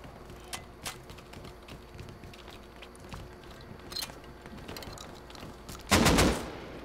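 Enemy gunfire in a video game, scattered sharp shots across a few seconds ending in a louder close burst, with no talk.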